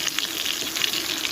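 Food crackles and sizzles in a pan while being stirred and turned, a continuous close hiss with small irregular pops, no talking.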